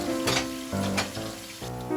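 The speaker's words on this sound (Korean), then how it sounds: "기름으로 시작하고 버터를 곁들여 기름진 식사를 준비합니다" Food frying in oil with butter in a home kitchen pan for a Christmas dinner, a steady close sizzle with crackling bursts and shifting tones as the pan is worked, no talk.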